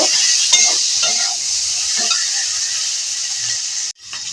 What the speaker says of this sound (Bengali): এবার নাড়াচাড়া করব যাতে আলুটা ভালোভাবে ভাজা হয়ে যায়